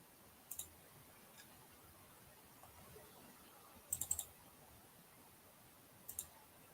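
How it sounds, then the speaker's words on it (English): Quiet, close computer mouse clicks in a quiet room: a single double-click, then a quick burst of several clicks, then one more double-click. "Sorry about all the clicking."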